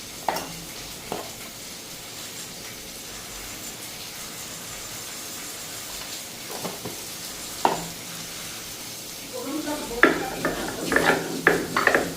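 Fried food sizzles softly in a wok (kadai) under a steady low hiss, with scattered clinks of a utensil against the pan and a busier burst of stirring and spatter near the end.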